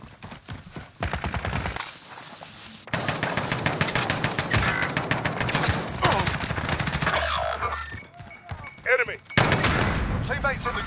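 Sustained automatic gunfire and scattered shots in the video game Call of Duty Modern Warfare, loud and continuous with brief breaks, mixed with game voices and chatter.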